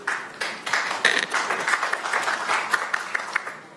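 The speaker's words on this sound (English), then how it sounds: "I hear quite a few people clapping up there" Audience members at a council meeting clap together, a steady patter of many hands of moderate loudness lasting several seconds, with a faint voice in the background.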